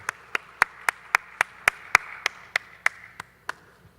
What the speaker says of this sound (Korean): 우리 샬롬과 함께 하나님께 영광의 박수 올려드리겠습니다.